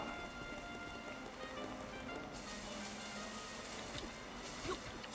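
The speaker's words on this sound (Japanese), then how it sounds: "突然雨降るね。" Steady rain falls in the video game Dragon Quest Builders 2, a continuous even hiss of drops on surfaces that holds level throughout with no voices.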